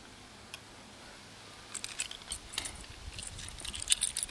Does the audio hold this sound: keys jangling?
yes